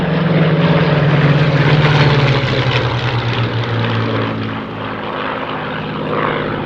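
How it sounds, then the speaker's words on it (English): Spitfire and Hurricane aircraft with Rolls-Royce Merlin engines flying past at an air show, a loud, throaty propeller engine drone with falling pitch as they pass, continuous and fairly close. "Marvellous, the crackle of the Merlins, eh?"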